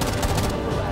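Pre-fire gunshots in Rainbow Six Siege, a fast, loud string of close rapid shots packed into a single second.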